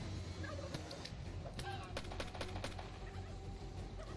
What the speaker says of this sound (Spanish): Es que los pavos van a por él, no a por mí.